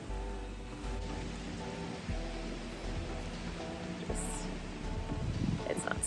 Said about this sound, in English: Naturally, it's raining.